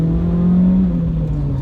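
A 2009 Mark III Renault Clio RS 200 with upgraded cup shocks and H&R lowering springs idles and revs close up, a loud, steady engine drone with a low hum that holds briefly and eases slightly.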